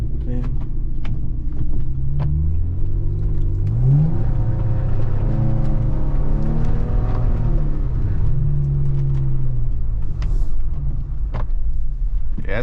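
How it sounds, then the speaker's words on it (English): A Jeep driving on an icy road, its engine a steady close rumble with revs that rise and fall in smooth sweeps as it accelerates and eases off. "we're gonna take the Jeep out"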